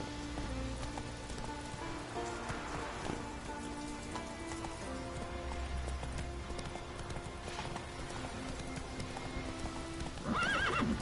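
Horse hooves clip-clop steadily at a gallop in The Witcher 3: Wild Hunt, with a neigh near the end over a constant patter of rain; no talking.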